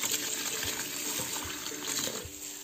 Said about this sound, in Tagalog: hugasan natin ng malamig na tubig para hindi magdikit